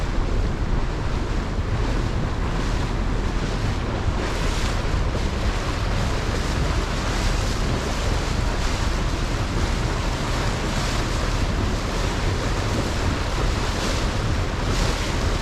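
Steady wind and ocean surf wash over a marina near the sea at Amelia Island, Florida, a continuous broadband roar with constant wind buffeting on the microphone and no voices.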